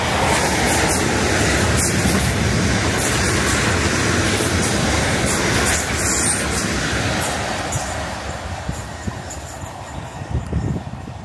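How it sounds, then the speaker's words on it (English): A train runs through Bentley station on a passing loop, a loud close rumbling roar that stays heavy for most of the clip before easing slightly toward the end. "trains are passing through Bentley on the wrong line"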